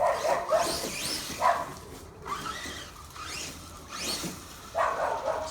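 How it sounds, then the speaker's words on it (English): A neighbouring dog barks repeatedly in a backyard, sharp yapping barks in irregular bursts at moderate distance, with a whiny edge between barks and no talk. "Dog next door doesn't like the RCs"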